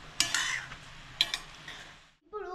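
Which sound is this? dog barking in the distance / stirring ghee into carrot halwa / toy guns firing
stirring ghee into carrot halwa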